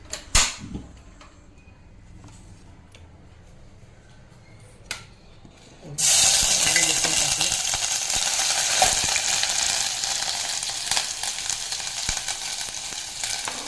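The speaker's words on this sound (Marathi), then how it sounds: "कांदा टाकायचा, कांदा चांगला परतून घ्यायचा." Onion dropped into hot oil for a Malvani-style egg masala, a quiet stretch with a few knocks giving way to a sudden loud, steady sizzle that carries on to the end without voices.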